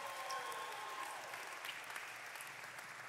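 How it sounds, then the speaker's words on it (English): Congregation applauding in a church, a dense wash of many hands clapping at moderate distance, steady and sustained, with a faint tonal hum at the start. "Clap like you believe it by faith."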